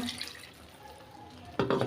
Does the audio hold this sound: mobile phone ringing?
no